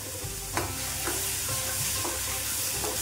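Onion and tomato sautéing in a pan: a steady soft sizzle with a few light scrapes of a spoon stirring, close and even throughout, no talking.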